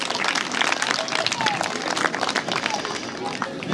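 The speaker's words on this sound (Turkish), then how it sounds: "Bir kez daha alkış" Wedding guests at a Turkish wedding clap loudly and steadily, a close, busy rattle of many hands with crowd murmur mixed in that continues for several seconds.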